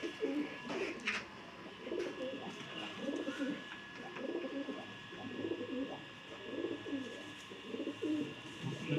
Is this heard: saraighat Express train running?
no